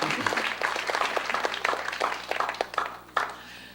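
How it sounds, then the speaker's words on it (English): Audience applause at a corporate run press launch, a scattered round of clapping from a modest indoor crowd that thins toward the end, with a few louder individual claps near the close. "let's applaud what's happening where wellness is concerned"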